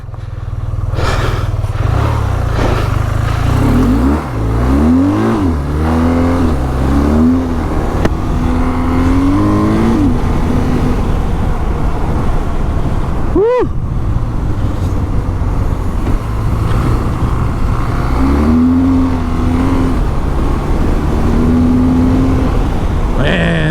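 A BMW R 12 G/S motorcycle engine is heard while riding on and off road, loud and close, revving up and down through the gears with a continuous rush of wind over the whole stretch.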